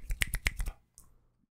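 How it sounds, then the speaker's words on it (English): Several sharp finger snaps in a quick irregular burst right after a recited poem, close and dry, followed by a short faint rustle and then quiet. "you're doing the poetry plus finger snap"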